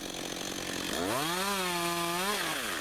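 Chainsaw cutting into a fallen spruce blowdown tree on an autumn day, engine revving up from a steady idle into a loud, sustained high-pitched whine for over a second before dropping back.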